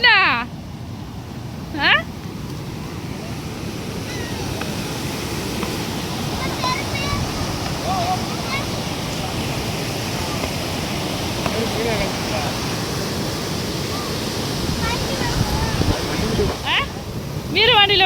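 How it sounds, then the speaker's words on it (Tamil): Strong river water rushes steadily past a bathing spot on the Yellapatty river near Theni, a constant loud roar; brief voices cut in at the start and end. "மீரவாண்டியில விட இங்கே தான் தண்ணி நிறையா போகுது."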